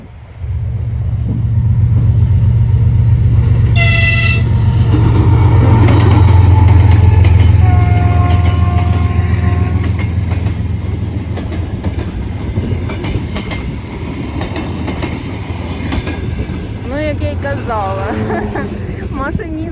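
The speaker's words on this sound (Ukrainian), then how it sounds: "дає гудок, коли знімаєш" A train rumbles and clatters past, with horn-like tones from the train partway through, loud and close, fading toward the end.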